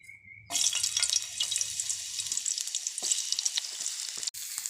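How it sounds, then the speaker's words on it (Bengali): Pointed gourd (potol) pieces dropped into hot oil, a sudden bright sizzle that keeps crackling and popping steadily after a quiet start. "আমি পটলগুলো দিয়ে ভালো করে ভেজে নেব।"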